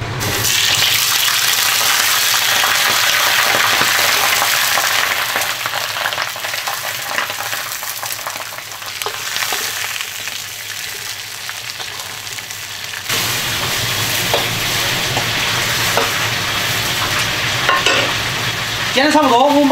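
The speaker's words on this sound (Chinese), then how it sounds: "油烧得好，先把鱼眼睛给它煎一下。" Fish eyes frying in hot oil and lard in a pan, a loud, dense sizzle that continues throughout, shifting in character partway as the food settles, with no talking.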